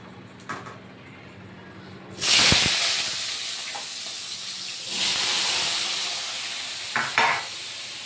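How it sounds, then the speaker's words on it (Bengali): Onions hit hot oil in a kadai, where potatoes were fried before, bursting into a loud sudden hiss that settles into steady sizzling, with stirring clatter and a second surge of sizzle midway. "এবার আমি পেঁয়াজগুলো দিয়ে দিচ্ছি"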